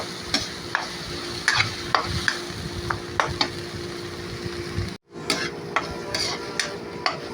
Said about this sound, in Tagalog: kailangan igisa natin ng mabuti yan